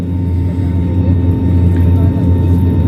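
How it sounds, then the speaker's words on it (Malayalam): An IndiGo airliner taxiing from the exit toward the runway, heard from inside the cabin as a loud, steady low engine rumble and whir. "എക്സിറ്റ് നിന്നും റൺവേയിലേക്ക് മൂവ് ചെയ്യാണ്"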